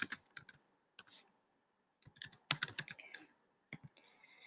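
Computer keyboard keys clack in scattered short bursts of typing into a spreadsheet, close and crisp, with quiet pauses between runs and no talking.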